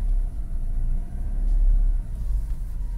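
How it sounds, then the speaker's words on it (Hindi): A Mercedes C200 with a starting problem, its running engine revved as a deep low rumble that rises and swells in the middle, then eases back, with no voices. "हम रेस करके दिखाते हैं।"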